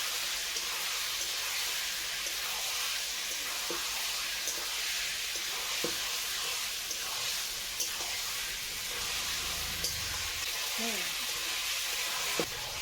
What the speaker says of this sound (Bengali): বেশ সুন্দর করে এখন কষাবো